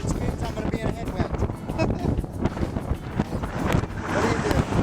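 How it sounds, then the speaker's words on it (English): Strong headwind blasting a cyclist's microphone on a Wyoming road: loud, continuous roaring buffets that swell and gust without letting up. "the wind's coming out of the southeast, and the road is curving to the southeast, which means I'm going to be in a headwind."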